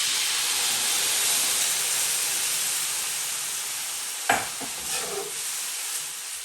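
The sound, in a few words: whole milk added to parched vermicelli and cinnamon in hot pot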